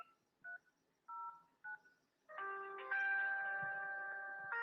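A feature phone keypad sounds several short DTMF beeps as a UPI PIN is entered for an ICICI bank transfer, then a longer sustained chime follows; tones are clear and fairly quiet with no talk.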